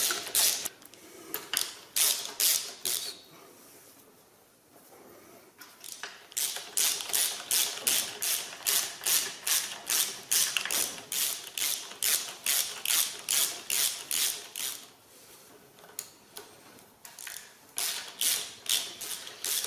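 Ratchet running down the bolts on a 1929 Albion engine: long bursts of rapid clicking pawl strokes with short pauses between, close and fairly loud, no voices.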